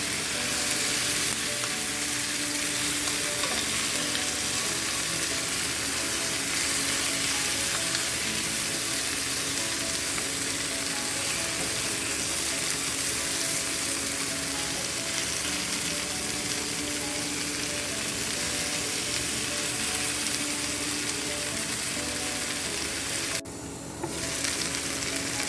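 Curry chicken sizzles and fries in a pot while being stirred, a loud, steady crackle that continues unbroken, with a brief scrape or clatter near the end.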